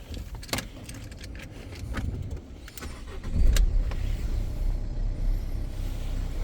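A 2018 Peugeot 3008 1.5 diesel engine turns over and catches, settling into a low rumbling idle, with clicks and rattles early on and no voices.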